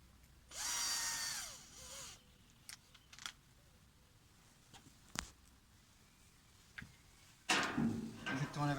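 A power drill bores in bursts while a handmade raku kiln is built, one long loud run near the start and a shorter one just after, then scattered clicks and knocks before a final rough burst.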